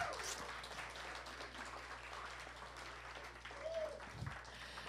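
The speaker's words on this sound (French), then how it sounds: "S'il vous plaît, applaudissez-les d'ailleurs quand même." Faint applause from an audience at a live event in Sherbrooke, scattered clapping heard from a distance, with a low steady hum and a brief voice underneath.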